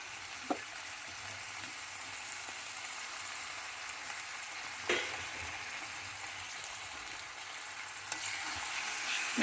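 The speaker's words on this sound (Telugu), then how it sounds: "వేసుకొని ఆకుకూరని బాగా వేయించుకోవాలండి" Methi greens with a small tomato, onion, green chilli and ginger-garlic paste fry quietly in a pan for aloo methi, with a soft steady sizzle broken by a few sharp stirring clinks.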